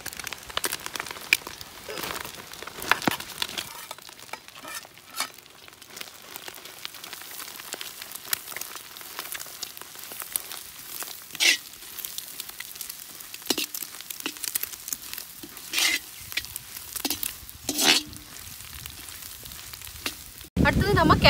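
Chopped onions for chicken Hakka noodles, Indian style, stir-fry in a hot pan with a continuous crackling sizzle, punctuated by sharp scraping and clattering stirs; no one speaks.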